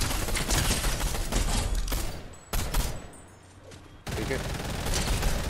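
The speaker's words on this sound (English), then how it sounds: "he has a charge SMG, watch it" An enemy's charge SMG fires in a video game, rattling in dense rapid bursts that drop out briefly and then resume, with a player speaking a word amid the shooting.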